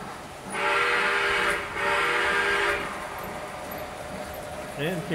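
A model locomotive runs fast through double wye trackwork, a loud steady rolling and humming rise across most of the clip with a brief dip midway, ending with a short whistle-like toot; a voice talks underneath.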